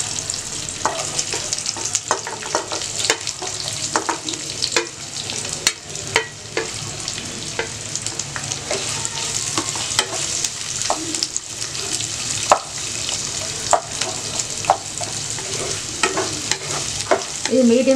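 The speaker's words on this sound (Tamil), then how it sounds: "இதை போட்டு கொஞ்சம் ஃப்ரை பண்ணிக்கலாம். இப்போ வெங்காயம் பச்சை மிளகாய் போட்டுடலாம்." Onion and green chillies fry in a pan with a loud, steady sizzle while a spoon stirs them, and there are sharp clicks and scrapes against the metal throughout.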